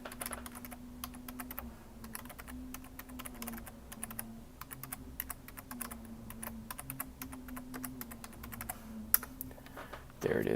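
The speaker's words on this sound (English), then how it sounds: "I'll type it in the chat." Computer keyboard typing during a live Q&A stream, a steady run of quick, light key clicks over a low background hum, with no speech.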